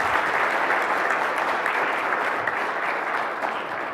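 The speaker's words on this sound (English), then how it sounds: "Huge round of applause for Victoria and Eric." Sustained applause from a conference audience after a talk, a dense, steady wash of clapping that fades slightly toward the end with no voices over it.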